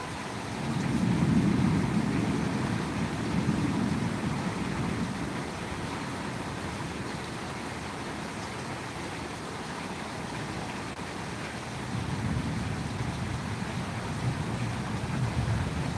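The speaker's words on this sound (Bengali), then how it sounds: "বৃষ্টিটা কমে গেল" Steady broadband rain hiss lasting throughout, with low rumbling swells near the start and again toward the end, as a rain shower eases off outdoors in Bangladesh; no talking.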